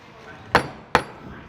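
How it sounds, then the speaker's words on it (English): A wooden mallet strikes a chisel twice, about half a second apart, while cutting a mortise in timber for a traditional timber-frame joint; each blow is a sharp, close, ringing knock against a quiet background. "Right, so now we've got mallet and chisel."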